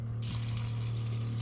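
A boat's washdown pressure pump runs steadily as a low, constant hum, with a faint water hiss above it throughout, no voices.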